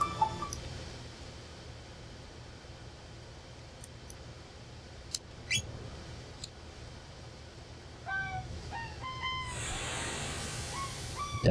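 Bird sounds in a retro video game, heard as sparse, short synthetic chirps and tweets over a faint, steady hiss, growing busier toward the end.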